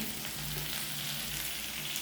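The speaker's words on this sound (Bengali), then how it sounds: "এই দেখো কড়াইতে হচ্ছে তোমার পেঁয়াজ কলি দিয়ে আলু দিয়ে দিয়ে একটা ভাজা করব" Spring onion greens and potatoes fry in a wok with a steady, close sizzle that runs evenly and alone throughout.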